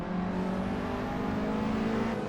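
A Nissan S15 Silvia engine in a racing video game, revving steadily with a droning engine tone that shifts pitch as it eases off, loud and close without talk.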